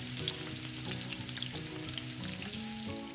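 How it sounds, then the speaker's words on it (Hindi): Sliced onions frying in oil in a pan while being stirred for masala chicken, a dense continuous sizzle with light scraping and clicking from the stirring, close and steady. "इसको हिलाएंगे और प्याज के पकने तक इंतजार करेंगे।"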